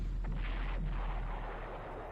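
A Panzer III N tank fires in the Panzer Corps strategy game: one muffled, booming cannon blast that rolls into a rumbling decay over about two seconds, with no voices.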